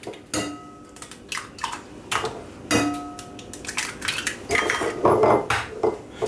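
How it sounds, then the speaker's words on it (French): Eggs are cracked against a bowl for a birthday cake, several sharp knocks and taps of shell on crockery in an irregular sequence, close and clear with no talking. "Je commence par casser mes œufs"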